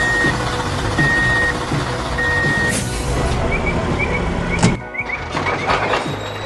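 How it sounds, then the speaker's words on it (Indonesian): Dump truck at work in an animated cartoon, hauling earth with steady engine rumble, repeated reversing beeps, a squeal and a thunk near the end, fairly loud and close. "Ada truk pengangkut tanah yang sedang bekerja dengan giat"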